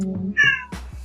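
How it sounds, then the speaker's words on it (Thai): A small cat meows close by indoors, one clear drawn-out call with a rising then falling tone, alone against a quiet room. "นี้เสียงแมว"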